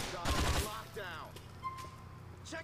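In Grand Theft Auto 4, a rapid burst of gunfire opens with several sharp, close cracks in quick succession. Scattered quieter shots and game sounds follow, and a voice is faintly heard.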